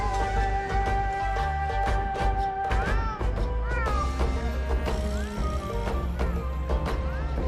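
Cartoonish cat meows from the Monster Hunter Portable 3rd PSP game, heard over continuous bright game music with jingly melodic lines, with several short rising calls scattered through.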